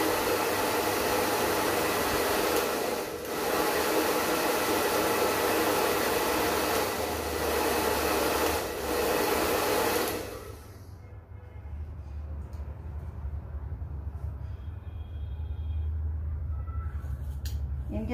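A hair dryer blows loudly and steadily during a step haircut, with a couple of brief dips, then cuts off partway through, leaving a quieter room.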